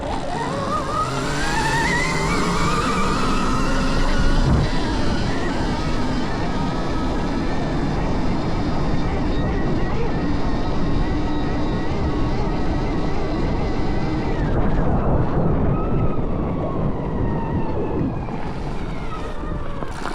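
A Stark Varg electric dirt bike accelerates at full throttle, a rising electric whine climbing in pitch over a constant roar of wind buffeting the microphone, sustained for about twenty seconds with a brief dip near the end.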